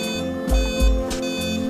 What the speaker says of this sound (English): Three beeps indicate the end of the cycle.